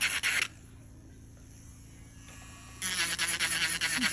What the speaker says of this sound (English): just keep filing so you can smooth it out